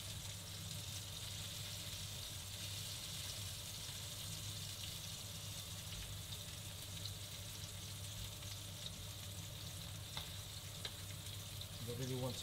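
Tuna searing in a hot pan gives a steady, close, even sizzle and crackle that runs unbroken the whole time, with a few louder spits near the end and no talking.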